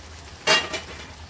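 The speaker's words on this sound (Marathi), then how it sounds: "पनीर फ्राय केलेलं ते टाकते मी" Fried paneer dropped into a pot of cooking vegetables for veg biryani, a brief soft sizzle and stirring scrape lasting under a second in a quiet kitchen.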